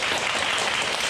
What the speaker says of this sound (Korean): 박수로 환영해 주세요.